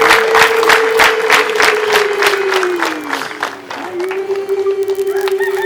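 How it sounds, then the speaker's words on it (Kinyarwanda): Wedding guests clapping in a quick rhythmic beat while a long, high, wavering ululation rings out over the applause, dipping briefly before resuming; loud and close, with festive crowd noise around it. "Amashyi n'impundu ibintu bikwiye amashyi"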